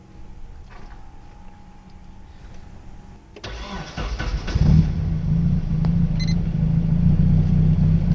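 Nissan 240SX coupe engine cranks and catches, then settles into a loud, steady idle close by, after a quieter stretch of faint background noise.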